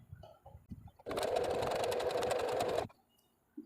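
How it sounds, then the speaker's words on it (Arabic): A sewing machine stitching fabric for small Eid gift bags runs in one close, steady burst of rapid mechanical whirring for about two seconds, with quieter handling noises and pauses before and after. "هنلف القماش وننزل المسند ونكمل خياطة"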